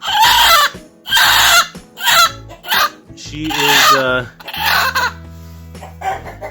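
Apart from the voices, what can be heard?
broody hen clucking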